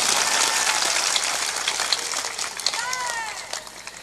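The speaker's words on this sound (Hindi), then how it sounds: "तालियां जोर से बजाया करो," Audience clapping during a Hindu spiritual discourse (satsang): a continuous, rain-like wash of many hands clapping at moderate volume, with scattered voices and a few higher vocal sounds over it.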